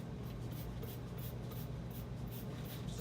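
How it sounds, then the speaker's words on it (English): Rapid repeated spritzes from a spray bottle aimed at fruit gnats in plastic-covered plant pots, a series of short hissing bursts over a steady low background noise. "so I'm gonna spray this."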